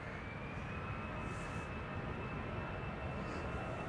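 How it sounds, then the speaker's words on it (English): An easyJet Airbus A320 takes off at Amsterdam Schiphol, giving a steady, loud broadband jet roar with a thin high whine held throughout, continuous and close in the foreground. "EasyJet flight 22162 to Person-Chester, and A320 is now taking off in the foreground."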